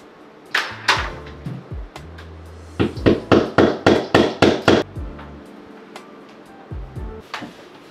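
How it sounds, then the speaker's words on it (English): Sharp hammer strikes ring out, a few scattered blows and then a quick run of about eight even, loud hits, followed by a couple of lighter taps. "Yes, I am using a hammer."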